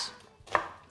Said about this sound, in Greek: Συνεχίζω με τα κρεμμύδια, τα οποία τα κρεμμύδια κόβω φέτες,